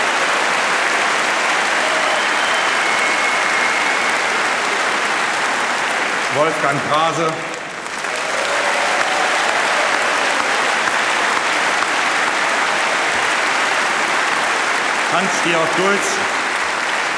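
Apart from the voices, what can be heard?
applause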